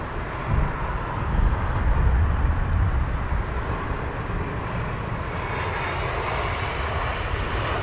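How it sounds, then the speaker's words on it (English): Steady, loud roar of jet aircraft engines at Heathrow Airport, with an Airbus A380 nearby, a continuous broadband rumble with no speech. "an A380 over there in the background"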